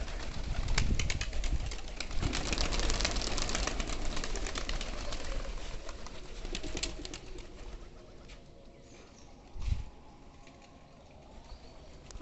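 A flock of some fifty to sixty pigeons coos and shuffles close by, with soft overlapping calls, occasional wing flaps and louder bursts over a constant busy background.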